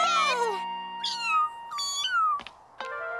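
A tiny cat in an animated children's story about Paris gives a series of thin, high meows, four or five clear cries close up with short pauses between them.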